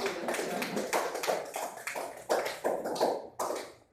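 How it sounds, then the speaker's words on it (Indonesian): Members of a group in a classroom clap their hands in loose, uneven bursts, a fairly close and lively patter with distinct individual claps standing out, no talk over it. "Tepuk tangan untuk kelompok 1."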